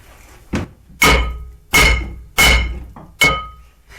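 A Subaru rear brake rotor struck with a hammer to loosen it, five loud metallic blows at irregular intervals, each ringing briefly before fading.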